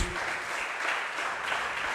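Congregation clapping during a church worship service, a dense, even burst of applause from many hands lasting a couple of seconds without pause.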